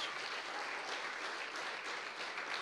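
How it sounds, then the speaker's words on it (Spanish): Steady applause from a church congregation, dense and even for the whole stretch, with no voices standing out over the clapping. "Vamos a darle un fuerte aplauso a la palabra de Dios."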